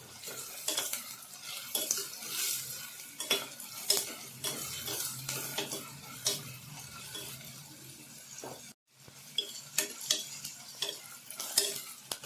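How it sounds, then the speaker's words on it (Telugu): Onions and green chillies fry in oil in a pressure cooker with a low, steady sizzle, while a spoon stirs and repeatedly clinks and scrapes against the metal pot, heard up close without speech. "ఇవి కొంచెం గోల్డెన్ కలర్లోకి వచ్చే వరకు వేయించుకోవాలి"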